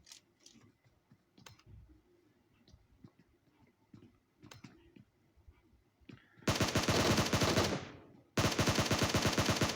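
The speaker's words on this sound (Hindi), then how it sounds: "काफ़ी शॉट्स दे रहे हैं बट गोली हल्की सी भी नहीं लग रही" Rapid automatic gunfire in a squad battle royale shooter game, loud dense bursts after a quieter stretch of faint ticking and clicks, with a brief gap between two long sustained volleys.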